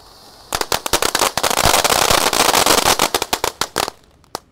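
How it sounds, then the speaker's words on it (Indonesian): A 4-inch conic fountain firework goes off at night, giving a loud, dense stream of sharp crackling pops that sputter out into a few scattered final bursts. "Mantap ini Conic Fountain ukuran 4 inci ya."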